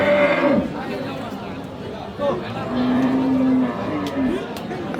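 Cattle at a livestock market selling Friesian cross bull calves, several loud moos, some long and drawn out, over a busy background of crowd chatter.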